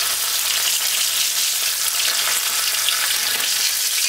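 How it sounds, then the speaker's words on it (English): Fish sizzling in hot oil in a pot, a dense, continuous crackling fry that stays loud and even throughout with no voices. "allow that to fry on one side"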